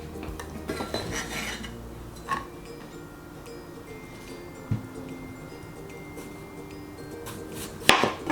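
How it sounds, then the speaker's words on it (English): Potatoes are cut with a knife for meatball soup, heard as sparse knife taps and clinks against a board at irregular intervals, with a louder clatter near the end. "Quickly cut the potatoes."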